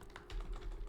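Brief burst of typing on a computer keyboard, a few soft, quick key taps, faint and close with no voice over it.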